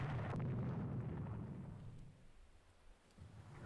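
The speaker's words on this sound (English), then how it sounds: "Hit one with the torpedo." A torpedo strikes a warship in the naval strategy game Rule the Waves 2, giving a deep, rumbling explosion that booms loudly at first and then rolls away into a fading low roar.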